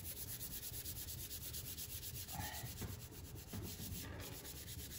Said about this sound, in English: I'm gonna take my hand and I'm gonna rub my hand all through this piece